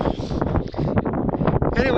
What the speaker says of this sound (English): no, still very windy.